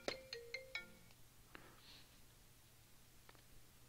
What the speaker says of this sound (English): once we silence this phone